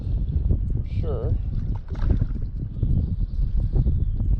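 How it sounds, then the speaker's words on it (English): Wind gusting over open water around a fishing kayak, buffeting the microphone in uneven rumbling bursts with faint water sounds, while someone talks throughout. "The wind's kicked up a little bit today."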